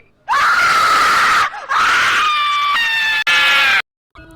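A girl screams loudly and at length, a piercing sustained cry broken by a brief gap, then rising into a strained, wavering shriek before cutting off abruptly.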